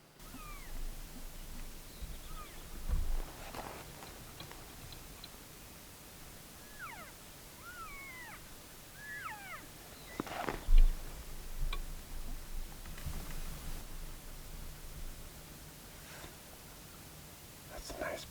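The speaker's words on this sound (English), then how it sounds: "We can hear bugles coming from both bunches" Distant bull elk bugle faintly in smoky, hazy country: several thin, rising whistles come and go over soft wind noise, with a few low thumps and quiet voices nearby.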